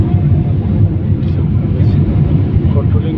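An airplane landing rumbles in a loud, steady low roar that holds throughout, with a voice speaking over it.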